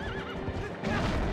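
A horse in the video game Twilight Princess gives a loud, wavering whinny, with hoof clip-clop and game ambience underneath.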